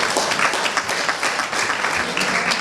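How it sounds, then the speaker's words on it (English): An audience at a youth town hall with a minister and regional leaders breaks into dense, sustained applause, many hands clapping at once throughout. "Let's applaud the ministry and the government of the day."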